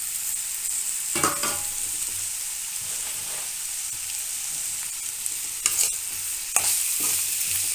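Boiled mashed potatoes for potato palya are stirred into a frying pan, with a soft steady sizzle and several sharp spatula scrapes and clacks against the pan, close up and without talk.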